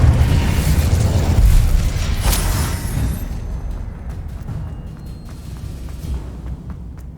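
Incendio fire spell cast in Hogwarts Legacy, a loud low rumbling whoosh and burst that fades into a crackling tail over several seconds, with no talking.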